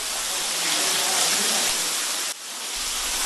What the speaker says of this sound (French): Notre reportage dans le bourg de Pushë fut interrompu par une forte chute de pluie.